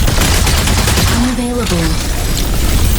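Rapid bursts of mech gunfire in shooting mode from the video game Mecha Break, loud and dense throughout, with a short synthetic voice line heard over the shots.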